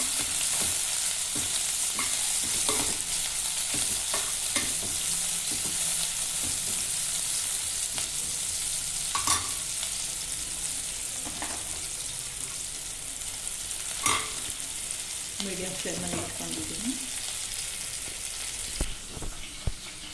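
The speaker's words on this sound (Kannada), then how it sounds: "ಎಣ್ಣೆ ಕಾದಿದೆ ಈರುಳ್ಳಿ ಹಾಕ್ಕೊಳ್ಳೋಣ" Chopped onions fry in hot oil in a home kitchen, a steady close sizzle and crackle running throughout with occasional stirring clinks and scrapes, no voices.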